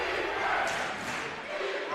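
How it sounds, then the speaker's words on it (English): A gym crowd at a Covenant Christian boys basketball game roars and cheers in a loud, sustained wash of voices with no single speaker standing out. "Listen to the crowd"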